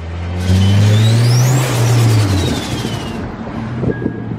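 An Acura TSX with a muffler delete and welded mufflers revs loudly up close, its engine rising then falling back over about two seconds, then dropping to a steady idle with wind buffeting the microphone.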